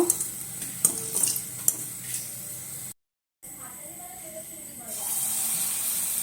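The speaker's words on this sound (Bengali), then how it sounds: "সমস্ত বড়াগুলো আমি আবার ওইভাবে ভেজে নেব" Palm fruit fritters (taler bora) frying in oil, a soft bubbling sizzle with occasional clinks, briefly cut out and then resuming as a louder steady hiss, with a voice talking over parts of it.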